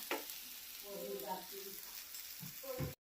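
Cucumber thalipeeth frying on a pan and turned over with a spatula: a soft, continuous sizzle with brief scraping touches toward the end before it cuts off.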